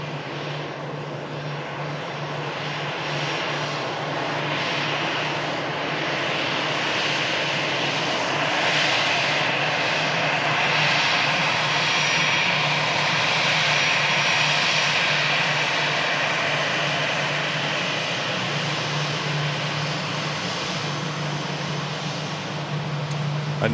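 Airliner engines roaring at an airport, caught during live plane spotting: a steady, broad, fairly distant rumble that holds at an even level for over twenty seconds with no talk.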